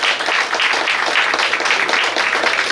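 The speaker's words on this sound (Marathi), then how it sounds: "एक बार जोरदार टाळ्या झाल्या पाहिजे।" Loud, dense clapping from an audience welcoming guests at a World Pharmacists Day session, steady and close throughout with no break.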